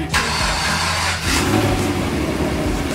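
A Chevrolet Camaro engine catches and starts, then revs and runs on steadily at close range, a loud broadband roar with a brief dip near the middle before it picks back up.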